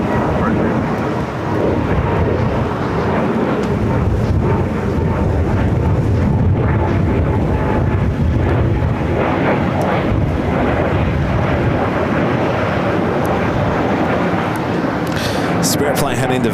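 A Spirit Airlines A320neo, flight 671 to Las Vegas, takes off at LAX, a loud, steady broadband jet roar that holds throughout with wind buffeting the microphone and a voice talking over it.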